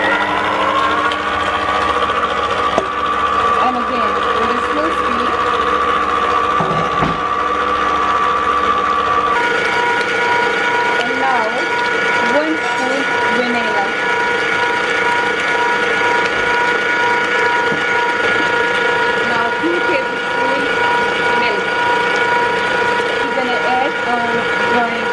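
An electric mixer runs slowly through dry cake ingredients for a basketball cake, giving a continuous mechanical whir with ticking gear-like rattles that shifts in pitch partway through. A voice talks over the motor.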